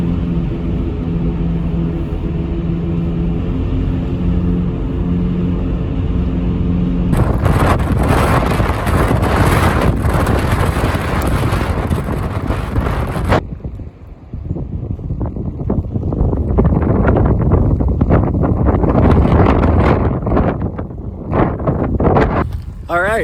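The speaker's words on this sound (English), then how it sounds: "the wind is definitely picking up" Strong wind gusts roar and buffet the microphone on Afton Mountain in the Blue Ridge during a blizzard, a loud, constant rushing rumble that surges and dips, with a brief lull midway.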